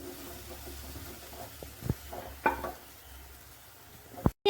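Ripe plantain roasts in a pan with a soft, steady sizzle. A spatula stirs and scrapes now and then, with a few sharp clinks against the pan.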